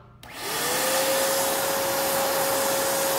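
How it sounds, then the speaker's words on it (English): A small tabletop vacuum for spindle sander dust collection switches on after a brief quiet moment, spinning up with a rising whine into a loud, steady roar that continues alone. "right in the back here is a small tabletop vacuum, and I'm going to turn the switch on"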